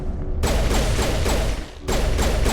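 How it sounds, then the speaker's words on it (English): Rapid bursts of explosive blasts and cracking detonations in the Dead Space video game, several sharp repeated hits with a brief lull before another barrage, loud and close. "Why is everything exploding?"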